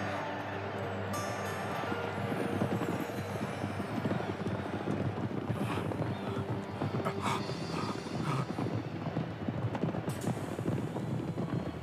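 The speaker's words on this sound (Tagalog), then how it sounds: "Pagkalampas sa ikatlong kurbada, biglang bumilis yung mga kabayo." Racehorses gallop hard through a turn in a horse race, a dense, continuous rumble of hooves held loud and steady throughout within a busy, full mix.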